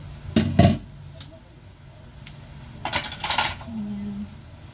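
Chopped potatoes and carrots tumble into a metal pan for vegetable spring rolls, two sharp clattering impacts, then a pause, then a second cluster of rattling drops, close and fairly loud over quiet room tone.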